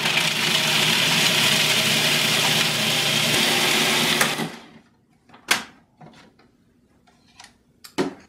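Food processor grinding walnuts toward a nut butter consistency, a loud continuous whirring roar that cuts off after about four seconds, followed by a few scattered clicks and knocks in the quiet.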